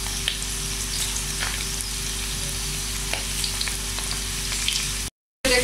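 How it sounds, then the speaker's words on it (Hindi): Marinated chicken pieces fry in hot oil with a steady, dense sizzle and faint crackles throughout, cutting out briefly near the end before resuming. "ये हम अब चिकन को फ्राई कर रहे हैं।"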